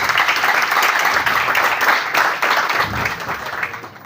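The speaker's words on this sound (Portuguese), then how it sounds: "Podemos aplaudir." A room full of people applauding steadily, a dense wash of clapping that holds for several seconds and eases slightly toward the end.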